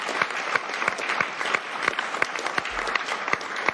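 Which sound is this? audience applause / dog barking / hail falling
audience applause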